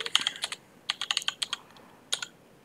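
A computer keyboard is typed on in short bursts of quick, light key clicks while a search is entered, with brief pauses between groups, close and fairly quiet, with no voices.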